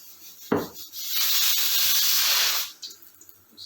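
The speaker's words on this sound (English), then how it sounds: "So we first of all add these Tej Pattas" Bay leaves (tej patta) drop into hot oil for dal makhani, setting off a sudden hissing sizzle that swells for about two seconds, then fades to a quiet crackle.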